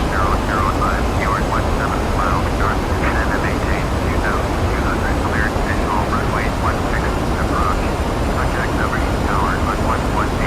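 Simulated Ryanair PMDG 737 jet in FSX on final approach with gear down, a loud steady broadband engine and airflow roar filling the whole stretch, with a muffled voice talking over it.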